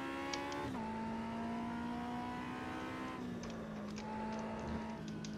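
Sim race car in Automobilista on the Oschersleben circuit, engine droning at full throttle with a steady high whine that drops in pitch at each gear change, loud and close throughout with no talking.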